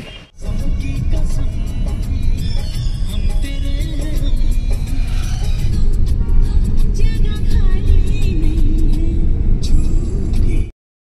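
A car travels along a road, heard from inside as a steady, loud low rumble of engine and tyres lasting throughout, with some shifting engine tone and faint background chatter, cutting off abruptly at the end.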